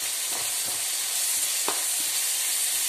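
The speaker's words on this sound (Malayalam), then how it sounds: "ഉള്ളി നന്നായിട്ട് വഴന്നു കഴിയുമ്പോൾ നമുക്കത് മുളകിട്ട് നന്നായിട്ട് മുളകും ശരിക്ക് മൂക്കുന്നോടം വരെ" Onion and chili sauté in a pan with a steady, loud sizzle, while a few soft scrapes of a stirring spoon come through at irregular moments.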